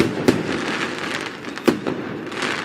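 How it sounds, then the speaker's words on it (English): Independence Day fireworks burst with two sharp cracks over a steady dense crackling rumble, loud and continuous, with no voices. "The fireworks are starting."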